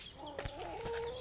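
Chickens clucking at feeding time on a morning farm, a few short close clucks and calls rising over steady background noise.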